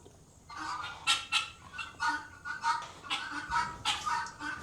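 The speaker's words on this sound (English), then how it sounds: "The guineas are in here." Guinea fowl penned in a farm barn give a steady run of harsh, rhythmic calls at moderate distance, repeating about twice a second with no talking.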